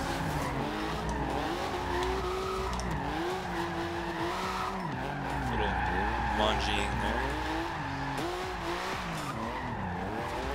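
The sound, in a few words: 1982 Porsche 911 Turbo drifting, engine and tire squeal, Forza Horizon 2 video game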